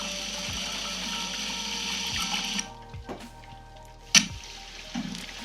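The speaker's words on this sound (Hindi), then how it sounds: "लहसुन अदरक भूनने के बाद हमने इसके ऊपर थोड़ा पानी डाल दिया है ताकि वो जले नहीं" Water poured into a pan over fried garlic-ginger paste and browned onions in ghee, a rushing sizzle and pour for a few seconds, then quieter drips and a sharp clink.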